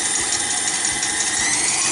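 An electric mixer beats Swiss meringue, giving a steady, loud, close motor whir with no pauses.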